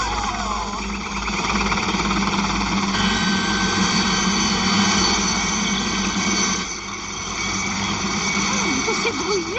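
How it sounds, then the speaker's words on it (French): A helicopter flying over a residential area, its rotor and engine a loud, steady drone that fills the whole stretch, with voices faintly heard beneath. "J'interdirais moi aux hélicoptères de survoler les zones résidentielles."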